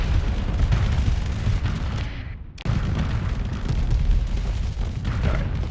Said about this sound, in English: I'm just firing away.